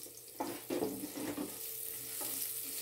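Garlic frying in a pan as it turns light brown, a soft continuous sizzle with a few brief stirring scrapes near the start, close and moderately loud with no talking.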